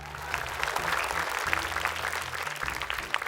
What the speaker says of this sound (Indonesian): Boleh tepuk tangan yang pertama adalah Ayah Selamat Ibnu Syam.